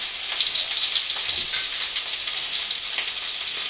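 Garlic sizzles in a very hot wok during a pork stir fry, a bright continuous hiss with faint scraping from stirring, close and steady with no talk.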